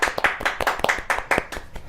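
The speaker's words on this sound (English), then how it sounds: "Let's give her a round of applause today." Audience at a talk-show taping clapping to welcome a female guest, a brief burst of sharp, fairly close hand claps in an uneven rhythm with no talk over it.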